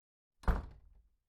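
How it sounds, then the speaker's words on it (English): A door is shut inside a queen's quarters: one solid, close thump followed by a short rattling decay, alone with no voices. "Please be a dear and shut the door behind you."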